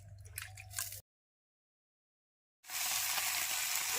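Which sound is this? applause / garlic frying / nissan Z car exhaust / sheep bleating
garlic frying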